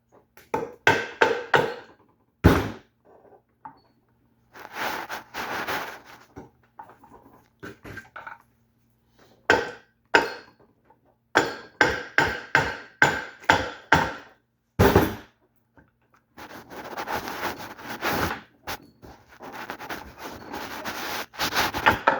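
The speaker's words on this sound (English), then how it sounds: "Give it another whack with a hammer." Repeated metallic hammer blows strike a stuck metal part on a snowblower in quick rhythmic bursts, loud and close, with brief pauses and scraping between the series of hits.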